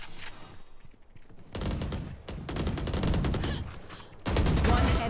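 Phantom rifle bursts in Valorant, several sharp loud shots fired in quick clusters with brief pauses, close and dominant over faint game ambience.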